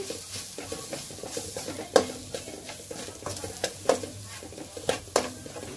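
Green chillies frying in a kadai make a steady close sizzle, broken by sharp scraping strokes of a spatula stirring against the pan at irregular intervals.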